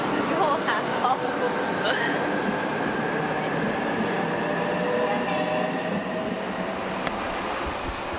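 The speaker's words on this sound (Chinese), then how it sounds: "火车已经正式开动了" A small local train in Japan pulls away from the platform, a steady low rumble of wheels and running gear with faint squeals and rattles, close and continuous, with a voice speaking softly underneath.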